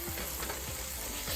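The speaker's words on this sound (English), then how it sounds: "Garlic sauteing, huh?" Half a tablespoon of minced garlic sautés in a pan, making a dense, steady sizzle that fills the short moment close up, with no talk.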